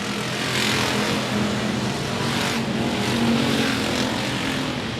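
Race cars in a regular race program at 105 Speedway roar around the track in a loud, continuous wash of engine noise, with the pitch swelling and fading as cars pass close by.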